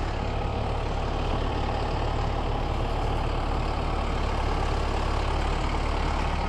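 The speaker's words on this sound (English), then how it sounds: "Well, we got our tractor." A tractor engine idles steadily, a continuous low rumbling chug with dense mechanical noise, close and unchanging throughout.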